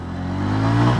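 A TVS Ronin 225 motorcycle engine climbs steadily in pitch as it pulls through the gears, a close, loud, continuous drone that grows slightly over about a second.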